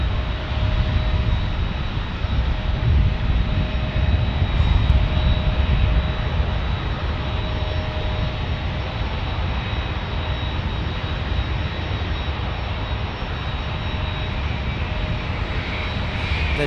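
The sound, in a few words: Boeing 787 Dreamliner jet aircraft engine at San Diego airport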